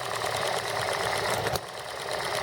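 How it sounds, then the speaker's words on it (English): A hit-and-miss model engine runs slowly, a steady mechanical chugging with a busy rattling texture that stays loud and close throughout, briefly dipping near the middle before resuming. "The nice slow run of an engine is always a good sound on these hit and miss."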